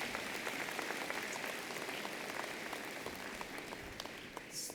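Graduates applaud at a spring commencement ceremony of a college of pharmacy, giving a dense, steady crowd clapping that holds for several seconds with no talk over it.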